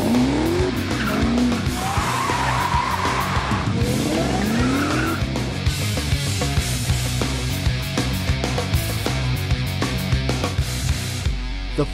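Car tires squealing and burning at a cruise run from the Rose Bowl to Hooters, with rising engine revs and repeated skidding screeches that give way to a loud, sustained rumble of racing engines.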